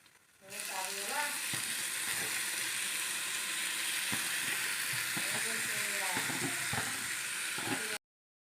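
Chopped Kokan leafy greens (kurdu) fry on roasted onion on a griddle, giving a loud, steady sizzle that begins abruptly and runs unbroken, with occasional stirring scrapes and a voice speaking over it.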